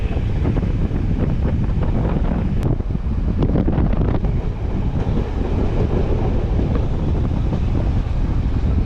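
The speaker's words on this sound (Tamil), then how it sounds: "இப்போ தான் கொஞ்சம் கொஞ்சமாக வேகத்தை வந்து அதிகரிக்குது இந்த ட்ரெயின்" An intercity express train gathers speed, its steady low rumble and rattling wagons loud and constant, with heavy wind buffeting the microphone throughout.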